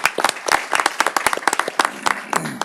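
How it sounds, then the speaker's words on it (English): Audience at a city council meeting claps in a short burst of applause, a dense run of close, sharp hand claps lasting a few seconds. "Well, round of applause for everybody involved with that as well."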